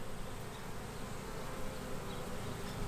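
A swarm of honey bees hums continuously in a dense, even buzz, moderately close and steady for the whole moment.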